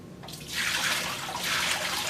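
Water pours steadily into the hopper of a Spaceman frozen dessert machine, a continuous splashing rush that starts abruptly and holds at moderate loudness throughout, with no talk.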